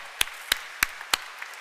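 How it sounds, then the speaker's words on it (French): A few slow, sparse hand claps ring out in a church during a Sunday Mass, four distinct sharp claps spaced evenly, fairly faint and with no talk over them. "On applaudit très fort."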